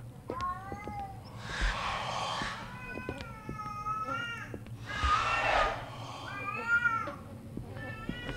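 A cat meows repeatedly in a video game, drawn-out, wavering cries, fairly close and clear, with breathy hissing bursts between some calls and a low background hum.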